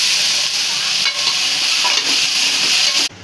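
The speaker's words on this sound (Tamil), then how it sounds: "வெங்காயம் பூண்டு வதங்கிட்டு தக்காளி போட்டுக்கலாம்." Onion, garlic and tomato sizzle and hiss in a hot pan as a spoon stirs through them. The frying is steady, loud and close, with faint scraping strokes, and cuts off abruptly at the end.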